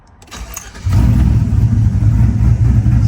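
A car with a GM LS V8, 4.8, 5.3 or 6.0 litre, cranks briefly and catches, then settles into a loud, steady low rumble at idle, alone with no talk.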